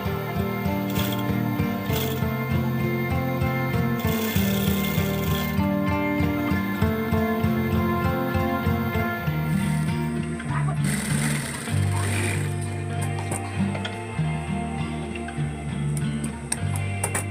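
A sewing machine stitches folded fabric parts of a pencil bag, running in a steady rapid mechanical rhythm with brief pauses and changes in pace, close and continuous.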